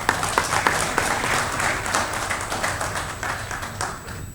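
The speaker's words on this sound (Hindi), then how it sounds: "तालियां आप लोग बजाते रहिए" Audience applause at a Bihar talent award ceremony, a dense wash of many hands clapping steadily at close range, with a few sharper individual claps standing out before it slowly tapers off.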